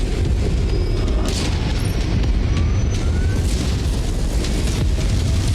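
LRM missiles fired in MechWarrior 5, a dense continuous roar of launches and explosive rumble, loud and unbroken throughout.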